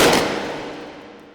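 A single loud burst of SMG fire comes from the VR shooting game H3VR, and a sharp metallic ring trails off and decays over about a second.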